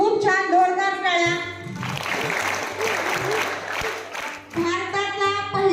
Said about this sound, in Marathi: खूप छान, जोरदार टाळ्या.